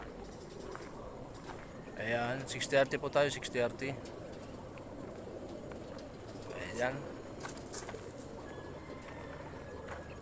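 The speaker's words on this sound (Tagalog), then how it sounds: "Ayan po yung mga ibon natin." Birds call in the open 6:30 morning air in San Jose, Nueva Ecija, a soft cooing among them, while a person speaks nearby over steady outdoor ambience.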